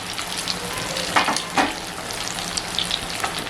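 Egg balls fry in a large kadhai of oil, producing a dense, steady sizzle up close, with a couple of louder bursts as they are stirred.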